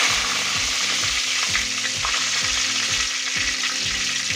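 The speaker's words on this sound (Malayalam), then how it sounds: "ഇനി നല്ലൊന്ന് ഇളക്കി കൊടുക്കുക." Crushed green chili and curry leaves sizzle loudly in a pan while being stirred for a Kerala-style tuna curry, with a dense frying hiss and a repeated rhythmic scraping and clanking of the stirring spoon, with no voice.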